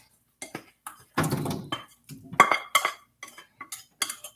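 A cooking pan scraped out with a utensil gives a series of short, close metallic scrapes and clinks in uneven bursts, separated by quiet gaps.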